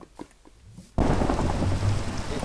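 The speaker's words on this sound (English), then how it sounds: "It's thunder." Video-game thunder and rain: after a quiet second, a loud thunderclap breaks in suddenly and gives way to a steady, dense roar of heavy rainfall that continues to the end.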